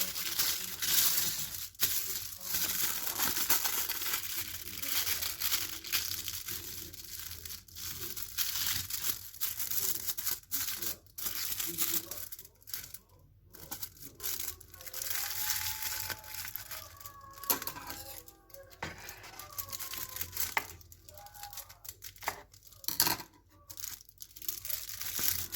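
Aluminium foil crinkles and crunches in close, irregular bursts as it is folded and pressed into a firm strip for garden use, with faint tearing-like rustles throughout.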